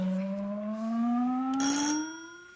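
A quiz show buzzer sounds once on a panel comedy show, a bright rising electronic tone that swells into a short ringing burst before fading.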